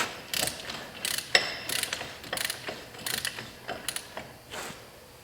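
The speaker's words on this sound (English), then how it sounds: "I got this torque wrench set at 50 pounds" A torque wrench set at 50 pounds ratcheting on an air brake slack adjuster, a series of crisp mechanical clicks in quick bursts, close up and alone, repeated roughly every half second with brief pauses.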